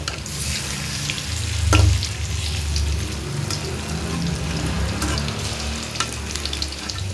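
Paneer kebabs fry in a pan of hot oil, giving a continuous close sizzle with crackles and a light scrape as the pieces are turned, and no talking.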